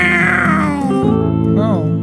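A voice imitates a cat's meow, a single drawn-out, wavering mew sung close and clearly, with no other sounds.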